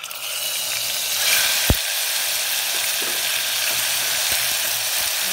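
Tomato hits a hot pan of tempered seeds and asafoetida over lowered gas flame, setting off a loud, steady sizzle with one sharp click near the start and faint scraping afterward, no talk.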